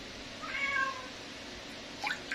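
A cat meows while milk is poured for it, two short clear mews, the first longer and more tonal, the second a quick higher cry, over quiet indoor room noise.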